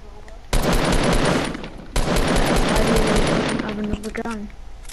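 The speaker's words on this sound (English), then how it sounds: "he's only shooting me with a revolver" Gunfire in the Fortnite video game, loud sustained bursts of shooting that fill most of the clip, with a brief break near the two-second mark and a voice speaking over the shots.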